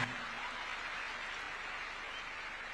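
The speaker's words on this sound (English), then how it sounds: "Another round of applause for His Excellency." A State House audience applauds the president, a continuous wash of clapping from a large gathering heard at a distance, fairly soft and uniform with no voices.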